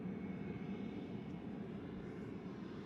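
An Embraer Phenom business jet climbs away after takeoff at Amsterdam Schiphol, its engine noise a steady, moderately loud broadband roar that holds even for the whole stretch with no voices over it.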